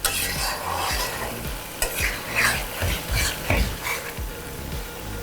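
Chicken frying in a pan for a crisp chicken fry, with steady loud sizzling and repeated scraping strokes of a spoon stirring the pieces, close up and with no talking.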